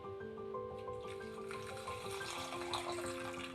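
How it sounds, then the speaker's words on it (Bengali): Water poured into mixed juice ingredients, a continuous close gurgling trickle that runs steadily throughout under a faint background tone. "এটার মধ্যে আমি একটু জল অ্যাড করবো"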